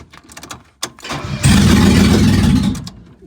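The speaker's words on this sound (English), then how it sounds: "that engine certainly tried to start then" A Mercedes R107 engine, not started in years, cranks with a rough, stuttering rhythm, then briefly catches into a loud, roaring burst before fading back down.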